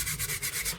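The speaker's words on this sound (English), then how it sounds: "I use sandpaper to scrub the blade," Sandpaper scrubs rust off a metal chisel blade in a brief burst of about six quick, even rubbing strokes, close up and alone.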